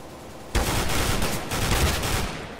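Sustained rifle fire from an AK in the video game CS:GO, a loud, dense burst of rapid shots lasting about two seconds after a brief quiet start, with no voices over it.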